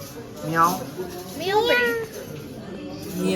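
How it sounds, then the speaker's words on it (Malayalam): Two short cat meows, close by, with a faint voice and light background noise around them. "ഇതാണ് ഞങ്ങളുടെ മിയാവ്."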